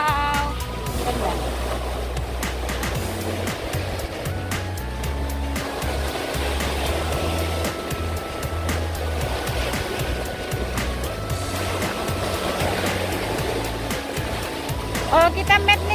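Ocean surf washes steadily onto El Saler beach near Valencia, the wave noise a continuous wash beneath people chatting and calling out nearby.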